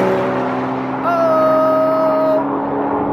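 An Audi RS3 and a BMW M4 in a rolling race, engines droning loudly and close, with a rising whine as they pass and a steady drone continuing afterward.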